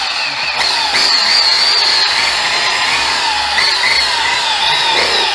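A rotary buffer polishing scratches out of a motorcycle windshield drones steadily and loudly up close, with a constant whirring tone that shifts slightly as the pad moves across the surface.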